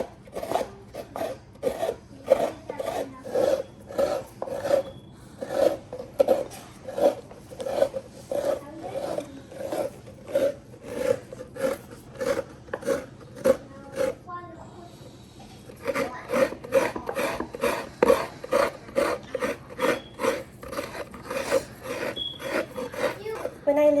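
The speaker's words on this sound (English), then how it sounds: "this coconut scraper is like a mini bench that I sit on to give it weight" Coconut meat scraped on a traditional bench-style coconut scraper weighted by the person sitting on it, a steady run of quick rasping strokes, close and fairly loud, with a brief pause midway before the rhythmic scraping resumes.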